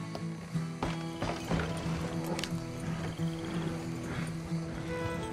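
Hooves of a stolen horse in Red Dead Redemption 2 clop in a steady running rhythm, close and continuous over a low in-game ambience, with no talk.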